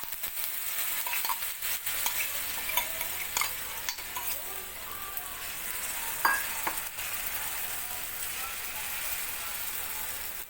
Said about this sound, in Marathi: चम्मच तेल टाकून घेणार आहोत आणि दुसरा पोळा टाकून देणार आहे